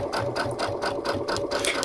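A Brother sewing machine stitches fabric with the MuVit foot, a rapid, even mechanical chatter of needle strokes, steady and close throughout.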